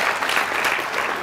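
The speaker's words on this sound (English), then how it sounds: "So give them all a round of applause." Brief burst of audience applause at a comedy debate welcoming the speakers, dense and continuous clapping heard on its own.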